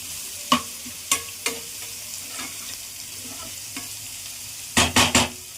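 Food for a tomato rice side dish sautés in a pan with a soft sizzle, spaced spatula knocks and scrapes, then a quick burst of three louder clatters near the end, no talking.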